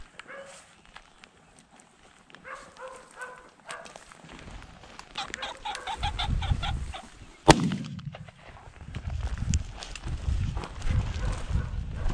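A pheasant gives harsh, honking cackles during a rainy pheasant hunt, in several short bursts. A single sharp bang follows, and then low rustling and movement continue.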